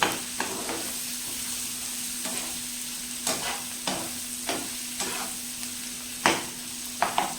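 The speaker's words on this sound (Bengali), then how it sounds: "এটাকে ভালো করে ভেজে নেব।" Vegetables for Bengali-style hakka noodles fry steadily in a pan with black pepper, a continuous sizzle broken by repeated scraping stirs and spatula knocks, close and moderately loud with no talking.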